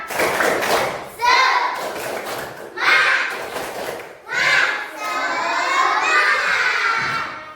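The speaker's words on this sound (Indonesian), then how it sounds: "Coba tepuk semangat." A classroom of students does a rhythmic spirit clap, bursts of clapping and excited children's shouts coming in several waves, loud and close, mixed with voices.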